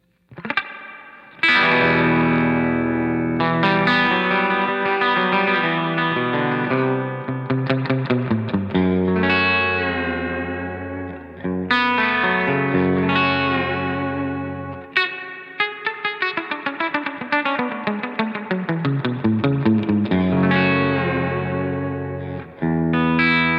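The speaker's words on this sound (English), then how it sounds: "Let's hear how deep the reverb gets." A Shinos Rocket Combo guitar amplifier with its reverb turned deep, heard on sustained distorted guitar chords and runs that ring out with long, echoing tails, loud and alone, ending with a decaying wash.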